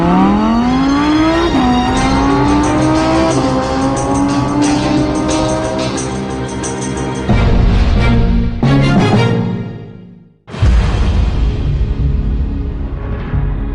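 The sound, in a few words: Audi R8 V10 Plus sports car engine driving on track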